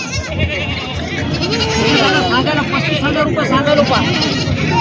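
Goats bleat repeatedly at a village goat market in Purna, Parbhani district, close and loud, with wavering cries over a steady crowd babble and nearby talk.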